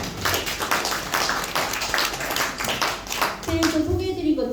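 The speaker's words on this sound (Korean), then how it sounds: "일단 뜨거운 박수 부탁드립니다." An audience at a poet's book concert claps in welcome, loud, close clapping that fills the moment, with a voice starting to speak at the end.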